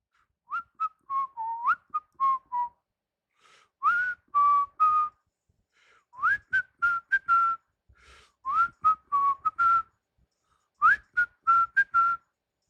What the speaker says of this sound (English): Who can whistle? Can you all whistle?